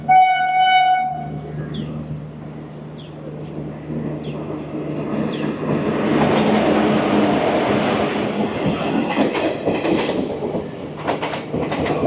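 The Howrah Balurghat Express passes in the rain, opening with a brief horn blast and swelling into a loud, sustained rumble and clatter of wheels and carriages that builds toward the end.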